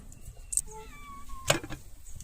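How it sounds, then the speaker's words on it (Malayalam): A short, faint cat meow with a rising then falling tone, heard once against quiet background noise. "എന്നാ പൂച്ചയായിരുന്നു മാന്ത പൂച്ച"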